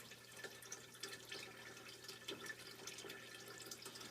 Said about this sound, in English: See, all of my liquid is draining right back into the reservoir.